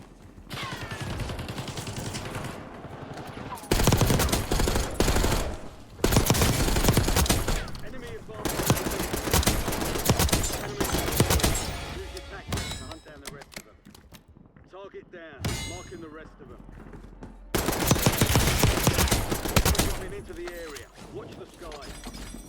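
Gunfight in the video game Black Ops 6: loud bursts of automatic gunfire and rapid shots in several dense stretches, with brief quieter gaps, while a person talks over the action.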